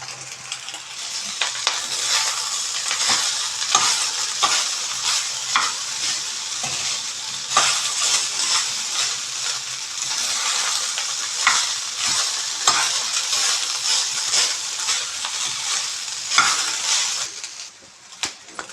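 Boiled rice tossed and stirred in a hot pan with vegetables for veg fried rice, a loud sustained sizzle with rhythmic scraping and clinks of a spatula against the pan, easing off at the end.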